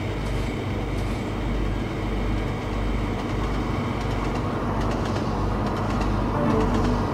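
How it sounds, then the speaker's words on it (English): A Shinkansen bullet train arriving in the Trainz railway game, a low continuous rumble with faint rail clatter and bird-like chirps in the background, no speech. "So now we wait for the arrival of the other Shinkansen train."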